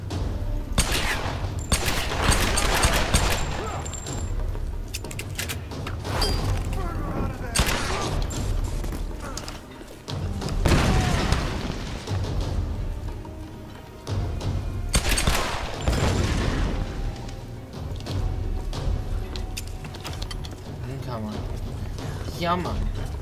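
Repeated bursts of gunfire from shooting enemies in the video game Tomb Raider, loud sharp cracks coming in clusters throughout, mixed with game noise, while a person talks over much of it.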